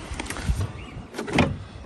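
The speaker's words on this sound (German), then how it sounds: "du musst die Scheibe ein bisschen runterlassen" The electric side window of a pre-facelift BMW E30 is lowered a little, giving short bursts of motor whirring close by, ending with a brief thump.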